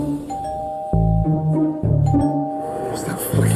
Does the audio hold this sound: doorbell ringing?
yes